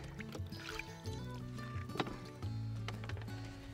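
Water sloshes and trickles as a scrubbed dish is rinsed in a camping rinse bucket, with soft splashes and dribbles close by and no talking.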